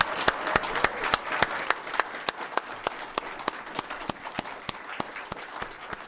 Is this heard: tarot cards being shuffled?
no